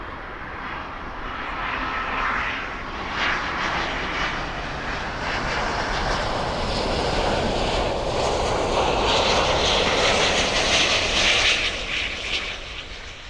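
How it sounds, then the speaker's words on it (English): A Qatar Airways Airbus A350-1000 out of Doha roars past as a loud, steady broadband jet rumble that holds for the full stretch, swelling slightly toward the end. The setting is Miami Airport. "Qatar 350-1000 from Doha"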